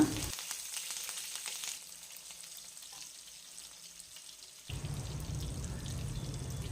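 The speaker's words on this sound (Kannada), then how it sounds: "ಗೋಡಂಬಿ ಫ್ರೈ ಆದಮೇಲೆ ಅದಕ್ಕೆ ಸ್ವಲ್ಪ ಕಟ್ ಮಾಡಿಟ್ಟಿರೋ ಹಸಿಮೆಣ್ಸಿನ್ಕಾಯಿ ಹಾಕಿ ಫ್ರೈ ಮಾಡೋಣ" Cashews and cut green chillies fry in hot oil, giving a bright, steady sizzle that drops to a quieter hiss and then surges again into a louder frying crackle, close by with no speech.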